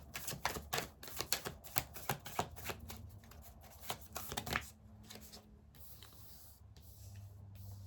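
Tarot cards are riffled and handled close by in a quiet room, a run of quick papery flutters and snaps that gives way to softer slides and near silence as cards are drawn; no one speaks.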